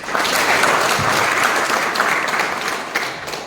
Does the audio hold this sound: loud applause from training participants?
yes